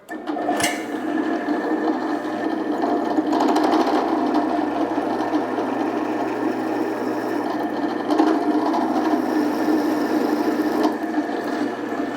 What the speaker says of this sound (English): I'm basically just going to drill down until I can feel the change in resistance to where it's just barely coming through on the inside